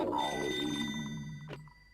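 In a Doraemon cartoon, a telephone rings faintly with a short tonal chime that fades out, then a click follows near the end.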